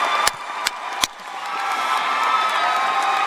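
Graduation ceremony audience cheering and whooping for a student speaker, a broad sustained crowd roar that swells after a few sharp claps or thumps near the start.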